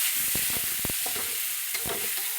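Tomato roasting in a hot pan gives a loud, steady hiss, with soft thumps and scrapes of stirring underneath.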